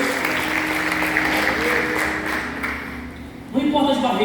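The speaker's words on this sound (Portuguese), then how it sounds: "Quer aplaudir o Senhor, quer aplaudir o Senhor nessa noite?" Church congregation applauding during an evening service, a broad sustained clapping under a murmur of voices that fades before a sharper burst of sound near the end.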